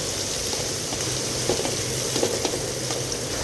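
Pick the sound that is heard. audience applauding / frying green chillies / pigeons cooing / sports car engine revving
frying green chillies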